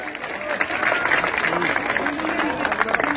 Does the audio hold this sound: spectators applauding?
yes